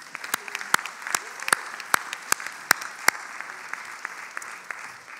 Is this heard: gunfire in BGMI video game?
no